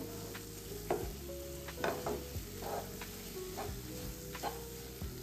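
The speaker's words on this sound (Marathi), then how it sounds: "तर अशा प्रकारे एकसारखं आपण हे फिरवत राहायचंय, म्हणजे ते खाली लागणार नाही।" Fresh coconut modak mixture is stirred and sautéed in a pan, with repeated scraping strokes about once a second over a soft, steady sizzle and no voices.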